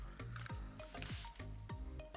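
Strawberry Jello mix being stirred in hot water in a bowl, soft wet squishing and swishing strokes repeating in a quick irregular rhythm, faint and close.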